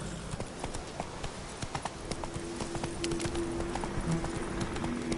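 The horse Roach trots in The Witcher 3, hooves clip-clopping in a quick, steady rhythm on hard ground, close and fairly quiet, with a faint tonal hum in the background.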